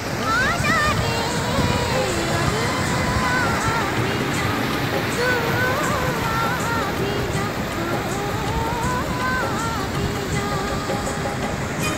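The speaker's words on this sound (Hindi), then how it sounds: "दोस्तों ये वो मंदाकिनी नाला है" The Mandakini stream at Harsil rushes in a steady, loud wash of flowing mountain water, with people talking over the constant noise of the current.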